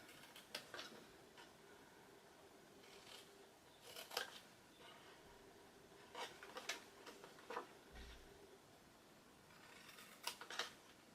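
Scissors cut through card for a Yankee Candle-style tea light bag, making quiet, crisp snipping clusters separated by pauses, close up in an otherwise faint, still room.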